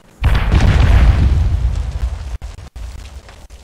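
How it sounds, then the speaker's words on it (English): A bomb explodes in the video game Conan Exiles: a sudden, loud, deep boom that rumbles on for about two seconds, then cuts out in short gaps as the rumble fades. "Oh, there's a bomb."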